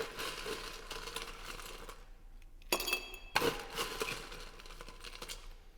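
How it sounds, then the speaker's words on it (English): Ice cubes clinking and rattling into a rocks glass while a holiday cocktail with cardamom is being made, a few bright clattering bursts close by after a stretch of softer kitchen noise. "we will add some more ice"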